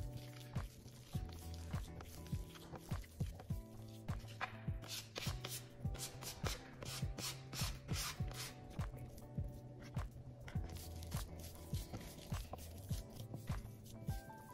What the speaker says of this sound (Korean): 이제 이런 식으로 반죽을 가운데로 모아주면서 눌러주세요